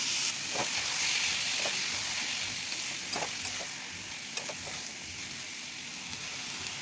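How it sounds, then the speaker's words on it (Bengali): Boiled peas tipped into spiced masala sizzling in a frying pan, a steady hiss of frying with a few soft knocks and stirs. Moderate and close, the sizzle easing slightly after the first few seconds. "এখন সেদ্ধ করা মটর দিয়ে দিলাম।"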